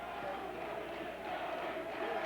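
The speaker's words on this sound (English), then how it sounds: "Here comes the crowd with the chant," A boxing arena crowd chants in a steady, rolling roar, a dense mass of voices filling the hall with no single speaker standing out.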